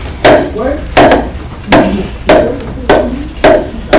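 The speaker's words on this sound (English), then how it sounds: "Start hammering and don't put your fingers in the process, okay?" Steady hammering on a wooden block: six loud, sharp woody knocks, each evenly spaced about three-quarters of a second apart, close by with a brief ring after each strike.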